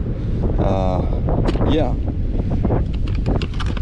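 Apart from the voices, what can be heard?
strong wind at the beach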